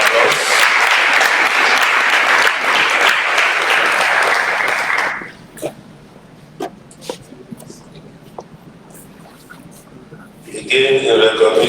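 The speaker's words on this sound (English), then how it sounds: "A round of applause." A loud, dense burst of audience applause fills the first five seconds at the NIMR ICHAIR 2023 closing ceremony, drops to a quiet stretch with a few stray claps, then swells again at the very end.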